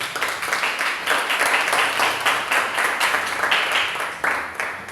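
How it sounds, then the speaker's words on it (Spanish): A church congregation at a youth vigil applauds loudly and steadily, dense clapping filling the whole stretch without a break. "démosle un fuerte aplauso al Señor"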